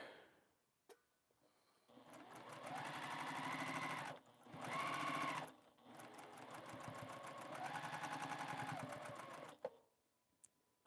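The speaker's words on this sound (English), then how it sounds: "wasting my time sewing 2 of these." A sewing machine stitches quilt pieces in steady fast bursts, a close buzzing whir that runs for a few seconds, pauses briefly, then resumes for a longer run before stopping.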